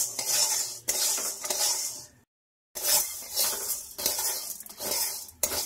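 Urad (biulir) dal is stirred steadily in a pan over a low gas flame, with a utensil scraping and clinking against the metal in repeated strokes, close up. The stirring breaks off briefly once.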